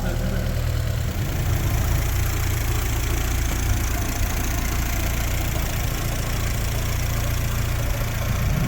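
A VW Golf 2 with a 20VT turbo engine idles steadily and close by, a loud, continuous low rumble with a slightly uneven knocking pulse that holds throughout without any talk.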